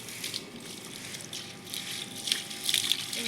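Water poured over a person's head, a soft continuous splashing gush with small fluctuations, faint and alone without voices.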